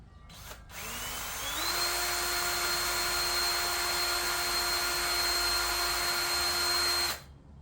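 A power drill spins a small left-handed drill bit during electrical repair work, a steady high whine after a brief spin-up, held for about six seconds before cutting off.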